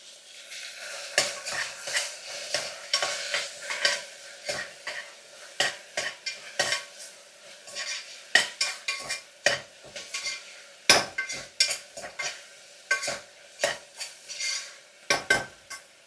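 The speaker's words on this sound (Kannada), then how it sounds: "ಇವಾಗ ಕಟ್ ಮಾಡ್ಕೊಂಡಿರೋಂಥ ಟೊಮೆಟೊನ ಹಾಕ್ತಾ ಇದ್ದೀನಿ." Chopped tomatoes frying in a pan, stirred in quick repeated scrapes and clinks of a metal spoon over a soft sizzle, close up with no one talking.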